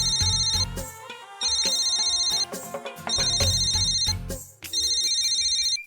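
A mobile phone ringtone plays a bright repeating melody in four bursts with short gaps between them, clear and fairly close in an indoor room.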